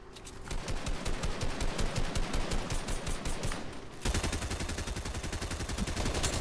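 Rapid bursts of gunfire in a shooting video game, dense and loud, with a heavier, fuller volley in the final seconds.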